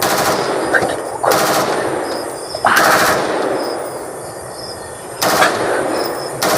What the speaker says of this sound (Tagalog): Malapit lang ang putok tol.